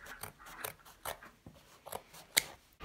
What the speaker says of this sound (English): grab your little scissors again and you can just snip through some of those.